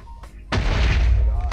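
Fireball explosions in Minecraft Hypixel BedWars: a sharp crack, then a loud roaring blast that sustains for about a second, close and heavy, with brief clicks before it and no talk.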